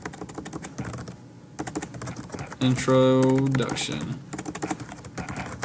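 Typing on a computer keyboard, quick clicky keystrokes in irregular bursts mixed with brief talk and a short sustained musical tone partway through.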